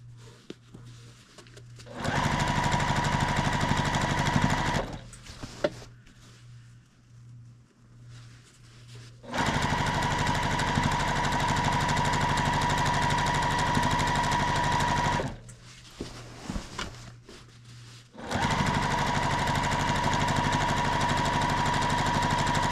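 A sewing machine stitches binding onto a quilt in three long steady runs, its motor whirring with a fast rhythmic needle clatter, broken by short pauses between bursts.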